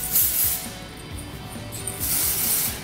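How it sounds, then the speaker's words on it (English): Hairspray hisses in continuous bursts from an aerosol can while short hair is styled for curling, close and steady with brief pauses and faint rattling handling noise. "I know I love it, so I just spray a lot right away"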